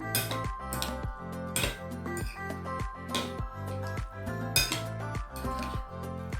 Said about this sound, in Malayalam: മസാല എല്ലാ സ്ഥലത്തും നന്നായിട്ട് പറ്റുന്ന രീതിയിൽ നമ്മൾ ഒന്ന് മിക്സ് ചെയ്തെടുക്കുക.